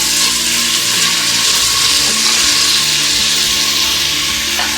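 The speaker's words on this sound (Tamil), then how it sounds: "நான் உப்பு சேர்த்தி வெங்காயத்தை நல்லா புரட்டி கொடுத்துட்டு" Onions with salt sizzle loudly in a rice cooker while being stirred, a dense continuous frying hiss with scraping of the stirring throughout.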